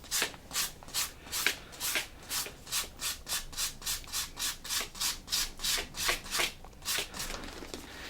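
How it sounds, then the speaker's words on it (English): Steady rhythmic rubbing of a light-grit sanding sponge on a concrete vase, back-and-forth strokes repeating about twice a second, close and even, with no talking. "take you a sanding sponge, preferably something light grit"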